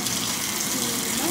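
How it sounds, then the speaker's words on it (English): Water gushes steadily from a shower tap into a shower, a dense, even hiss that fills the space without a break. "Turn on the water."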